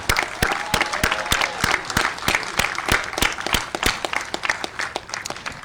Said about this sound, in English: Let's give a special applause to the Academy staff and students also here with us today.